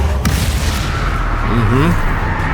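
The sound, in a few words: Bombarda and Confringo spell explosions in the video game Hogwarts Legacy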